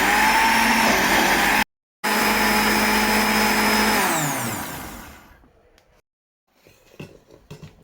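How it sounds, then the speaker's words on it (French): A kitchen blender runs loud and steady, mixing cooked vegetables with akpi paste. It cuts out briefly, whirs again, then spins down and stops, and a few light clunks follow. "les légumes dessus pour les mixer ensemble"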